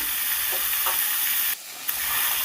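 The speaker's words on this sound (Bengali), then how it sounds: "এবার মাছগুলোকে দিয়ে সুন্দর করে ভেজে নেব" Hilsa fish pieces fry in mustard-poppy oil with a close, steady hiss and crackle, broken briefly by a quieter moment and a small clatter of a spatula.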